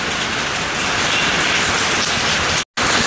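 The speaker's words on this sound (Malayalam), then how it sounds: "മഴ പെയ്യുന്നു, തോരുന്നു, വീണ്ടും പെയ്യുന്നു, വീണ്ടും തോരുന്നു." Steady heavy rain pouring down outside a house, a loud dense hiss that fills the whole clip without voices.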